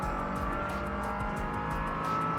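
A race car in a high-end racing simulator weaves on track to warm its tyres, a continuous engine drone with a steady low rumble and faint tyre noise, loud and unbroken throughout.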